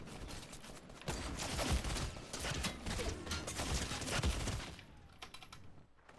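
Rapid bursts of automatic gunfire in the video game Fortnite, a dense run of clattering shots at steady loudness that thins out near the end.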